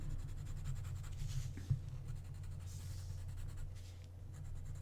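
A pencil shades across a drawing tile with a steady, soft scratching that runs throughout, faint and close, with one small tap midway and no voices.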